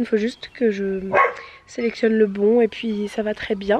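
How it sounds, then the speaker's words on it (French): A neighbour's dog barks several times in a home in the evening, the yaps mixed in with someone talking steadily in French over them. "Et le chien que vous entendez, c'est le chien de la voisine"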